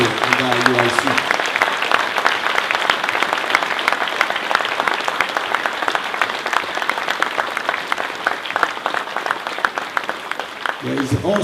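A congregation at a Passover class claps in a loud, sustained round of applause, many hands blending into a dense wash that carries on steadily, with a voice briefly audible at the start and end.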